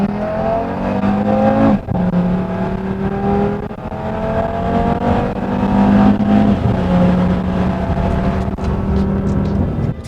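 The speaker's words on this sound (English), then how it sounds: "Let me give you a little mid-range of the exhaust note." A Stage 2 Audi RS3 exhaust revs up and settles in deep, loud, sustained waves in the mid-range, the engine note rising and falling with a short dip partway through.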